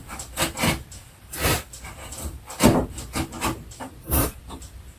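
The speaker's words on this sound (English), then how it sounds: "There's the fibers coming up. Let's cut them. Sharp chisel down." A sharp chisel paring wood fibres in a half lap joint, a series of rough scraping strokes in an uneven rhythm, close and fairly loud with short pauses between cuts.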